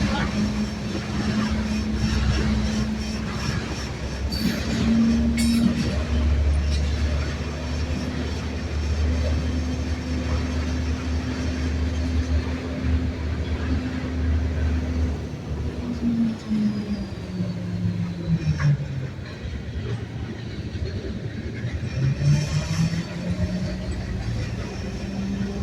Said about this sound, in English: That train was loud, bro.